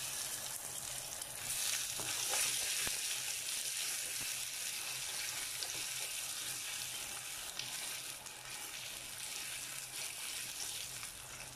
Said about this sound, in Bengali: তো আমি ডিমগুলোকে আগে একটু ভেজে নেব।